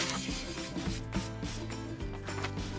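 Wood being sanded on a kitchen cutting board: a continuous scratchy rubbing with a rhythmic back-and-forth texture, moderately quiet and close, blended with a steady tonal hum.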